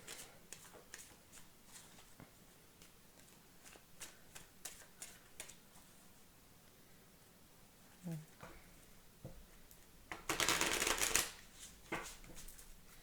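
Tarot cards shuffled for a Valentine's love reading, a run of quick close riffling taps followed by a louder, denser burst of shuffling near the end, with a voice speaking faintly at times.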